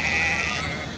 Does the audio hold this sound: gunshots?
no